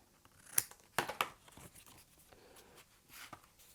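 Scissors snip through paper for a pull-tab pop-up card, a few short crisp cuts close by with quiet pauses between them.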